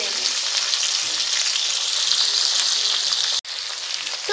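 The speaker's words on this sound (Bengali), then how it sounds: "শিমটা আমি এখন একটু লাল লাল করে ভেজে নেব।" Flat beans fry in a hot pan, a steady loud sizzle with a brief break near the end before the hiss resumes.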